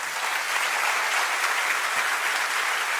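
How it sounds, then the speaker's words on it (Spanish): A church congregation gives sustained, loud applause that fills the room evenly for the whole stretch, with no speech over it. "Dale un fuerte aplauso al Señor."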